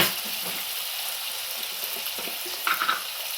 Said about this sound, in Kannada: ಟೊಮೊಟೊನ ಚೆನ್ನಾಗಿ ಫ್ರೈ ಆಗಬೇಕು. ಸ್ವಲ್ಪ ಅರಿಶಿನ ಪುಡಿ ಹಾಕಿದ್ರೆ ಬೇಗ ಟೊಮೊಟೊ ಬೇಯುತ್ತೆ.